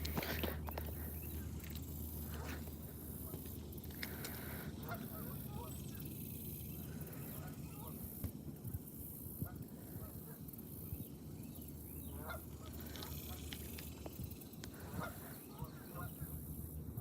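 A flock of geese honks outdoors beside water at a fishing spot. Scattered calls sound over steady ambient noise at moderate distance, with occasional footsteps and no clear speech.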